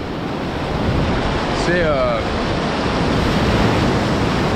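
Sea waves wash steadily at Santa Maria in the Azores, a broad continuous roar mixed with wind buffeting the microphone, while a faint voice or cry briefly rises midway.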